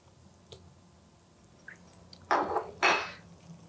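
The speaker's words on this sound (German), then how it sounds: "wenn die Butter kalt ist und man sie kalt einrührt" Cold butter stirred into beetroot risotto in a pan gives soft wet squelching and sloshing, two louder thick squishes following a few faint clicks and drips, close by.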